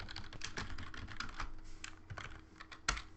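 Computer keyboard typing up close, quick irregular clacks of individual keys with brief pauses, fairly quiet and with no talking.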